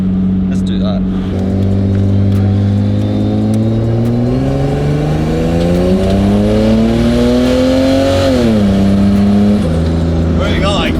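Turbocharged Holden VL wagon engine revving loud and close, the pitch climbing steadily over several seconds then dropping back, with brief voices at the start and end.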